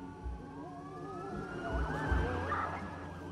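Police sirens wail and rise during a car chase in the video game Watch Dogs, several overlapping tones sweeping up and down over engine rumble and growing louder toward the end.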